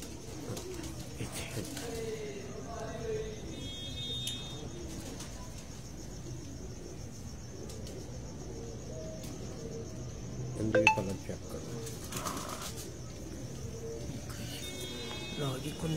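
Pigeons on a home rooftop give soft, low cooing, joined by occasional faint chirps and small clinks against steady outdoor background noise, with brief bursts of movement.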